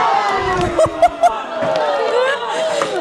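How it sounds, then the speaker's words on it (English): Malaysian spectators at an under-21 women's canoe polo match at the ICF world championships, cheering and chattering as a crowd, with a few sharp shouts and whistle-like cries rising over the steady hubbub. "Oh, the Malaysian crowd are absolutely loving it."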